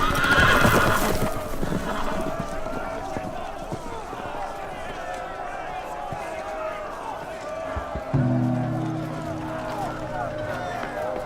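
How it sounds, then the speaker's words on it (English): Horses whinny and neigh over rumbling hoofbeats in the video game Game of Thrones: A Telltale Game Series, with a loud shrill neigh at the start and galloping continuing throughout. "The horses! They're loose!"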